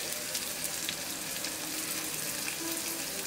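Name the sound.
onions frying in a pan with rock salt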